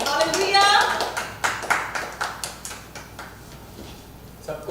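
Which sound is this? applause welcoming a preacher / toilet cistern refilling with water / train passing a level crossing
applause welcoming a preacher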